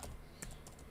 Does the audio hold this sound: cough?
no